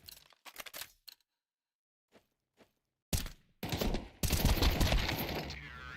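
Video game match gunfire: scattered soft clicks and thuds, then a loud burst of rapid automatic fire that swells into a dense, sustained spray of shots up close.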